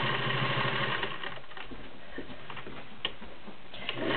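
A vintage Singer 403A Slant-O-Matic with all-metal gear drive and a size 18 needle stitches through about eight layers of woven canvas, giving a steady mechanical whir and rapid ticking that runs throughout, close and fairly loud.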